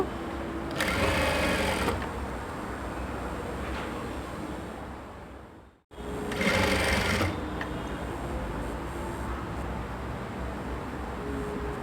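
A sewing machine stitches a layer of a three-layered ruffled lehenga skirt in two steady whirring runs, each about a second long, close up over a constant background hiss with a brief silence between.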